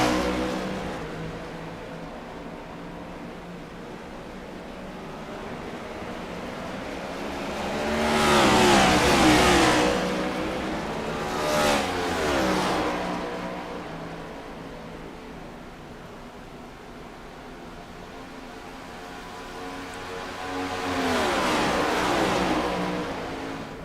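Stock car engines race in the iRacing video game on the Le Mans circuit through the Mulsanne hairpin and onto the straight, a steady mid-level engine drone that swells loudly as cars pass around the ninth, twelfth and twenty-first seconds.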